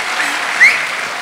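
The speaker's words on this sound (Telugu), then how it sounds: "ఇప్పుడు పాడిన దానికి ఎంతసేపు చప్పట్లు కొడతారు?" An audience at a Telugu singing competition in Australia claps for a singer, giving a short burst of steady, dense applause with a brief swell partway through.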